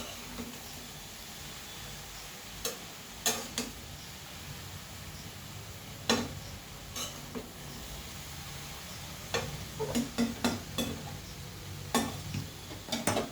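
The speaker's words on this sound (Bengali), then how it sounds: "এবার সমস্ত সবজিগুলো আমি একটু উল্টে পাল্টে দিচ্ছি" Vegetables frying without water are stirred and turned over in a pan, with scattered sharp ladle clicks and scrapes over a steady low sizzle, clustering more densely toward the end.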